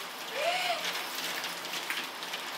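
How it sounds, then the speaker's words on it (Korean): Hail falls in mid-June in North Macedonia, a dense, steady patter like popping corn pelting surfaces outside, with a faint brief whistle early on and no clear talk. "아 우박이 내리냐? 6월 달에? 6월 중순에?"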